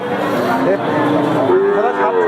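Cattle moo loudly and close at a heifer calf market, several drawn-out lowing calls over a busy crowd murmur.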